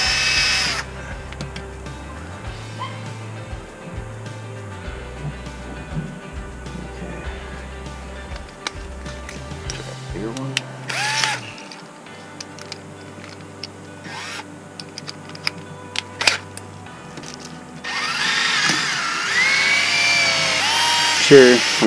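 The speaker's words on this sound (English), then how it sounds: "First, fold in half, and I'm gonna drill a hole" Power drill boring a hole through folded rubber sheet during RV repairs at a campsite, heard in several bursts of whining motor with pauses between, fairly close and loud, with brief handling noises.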